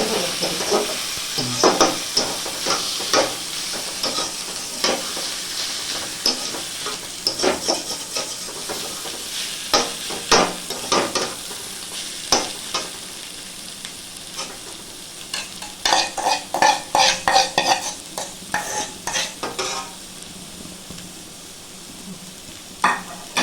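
Dry red chillies, coriander and cumin sizzle loudly in hot oil while a spoon stirs them, sharp scraping strokes recurring in bursts against a steady frying hiss, heard up close with no talking.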